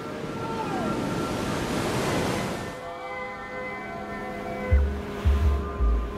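Big waves off Oahu break in a heavy roaring surge of surf, then fall back to a softer wash with wind buffeting the microphone in low thumps near the end.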